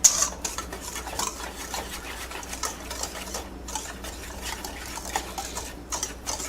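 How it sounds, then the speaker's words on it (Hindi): Fried fish marinade ingredients are stirred together in a bowl in a steady scraping, clinking rhythm, close and moderately quiet with no voices. "अब हम इन तमाम अज्जा को बहुत अच्छी तरीके से मिक्स करेंगे"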